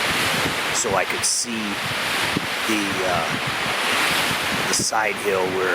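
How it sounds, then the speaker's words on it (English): Strong wind gusting at 20 to 35 mph buffets the microphone outdoors before daylight with a constant roaring rush and gusty surges, while someone speaks quietly underneath. "The wind is pretty strong, definitely busting about constant 20, 30, 35 mile an hour gusts"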